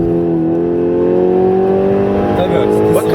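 Low, steady Seat Ibiza Cupra engine rumble held at low revs, loud and close, with people talking over it.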